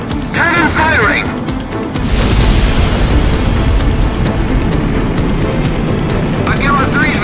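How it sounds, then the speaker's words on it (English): A shot cannon fires in the Ace Combat X video game, a heavy sustained boom and rumble that swells and holds under a continuous roar, with brief radio-style voices at the start and end. "Cannon firing!"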